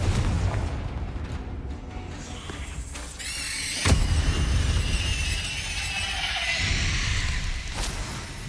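A Confringo spell explosion from Hogwarts Legacy on PS5 erupts with a sharp boom around the middle, followed by a fiery, crackling rumble that hangs at a steady loud level.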